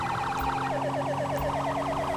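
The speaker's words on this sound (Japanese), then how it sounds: "すげー、サイレンもめちゃくちゃバグりまくってるけどね。" A police car siren wails in rapid, continuous up-and-down cycles in GTA 5, loud and steady with a low engine hum beneath and no talking.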